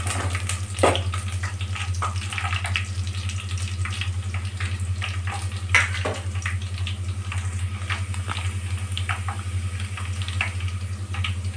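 Food sizzles steadily in a pan as mustard seeds fry for chicken gravy, while a utensil scrapes and clinks intermittently, stirring it; a constant low hum sits underneath.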